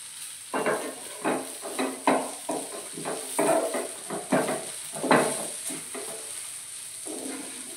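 Tomato chutney being stirred in a pan: a string of regular scraping strokes about every half second, close and moderately loud, over a faint constant hiss.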